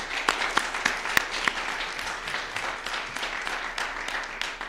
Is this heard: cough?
no